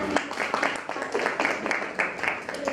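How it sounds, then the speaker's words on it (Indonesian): Audience applause at an academic supervision session after a presentation, a steady patter of clapping from a modest group, close and continuous with some voices mixed in. "Kita beri tepuk tangan."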